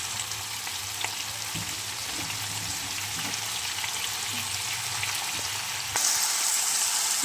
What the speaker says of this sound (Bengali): এবার আমি দিয়ে দেবো পালং শাক আর আলু